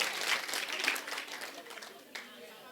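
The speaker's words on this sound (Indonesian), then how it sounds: "Tepuk tangan untuk Ibu Okta" Audience applause for Ibu Okta at a church gathering, a broadband patter of clapping that starts full and gradually thins out, with some voices mixed in.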